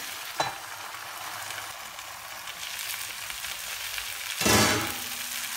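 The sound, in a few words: butter melting in a covered pan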